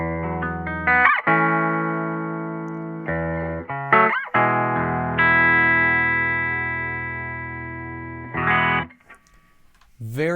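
A clean electric guitar played through a vintage amp with the preamp volume maxed and the master around three, in a studio: sustained chords and single notes ring out in separate phrases, dry and fairly loud, with no talking.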